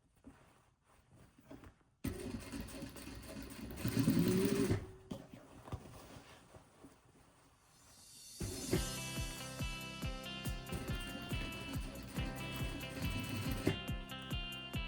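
A sewing machine runs stitch bursts while mending a hole in denim jeans near a pocket's double stitching line. There is a short run early, a louder burst, then steady rapid motor whir and needle chatter close by to the end.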